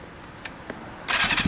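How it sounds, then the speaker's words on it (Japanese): A 1st-generation Honda CBX400F (NC07) motorcycle engine fires up after a couple of brief clicks, bursting into a loud, broad roar near the mic and holding there briefly. "エンジン音聞かして"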